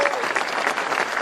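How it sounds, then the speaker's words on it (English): A short burst of steady, moderately loud applause from an audience at a White House event, dense clapping with a faint voice mixed in. "Give them both a big round of applause."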